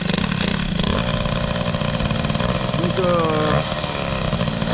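A hot Peugeot 103 moped fitted with an Airsal 65 hybrid kit runs steadily with a buzzing, rasping two-stroke note and revs up briefly. Someone speaks French over it.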